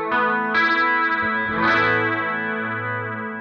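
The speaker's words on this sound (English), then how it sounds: "This is our clean sound, but we're going to add a chorus block." Clean electric guitar tone through a chorus block on a Fractal Audio Axe-Fx II, several strummed chords ringing with shimmering modulated sustain, loud and close, no voices.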